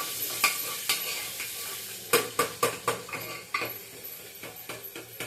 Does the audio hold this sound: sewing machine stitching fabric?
no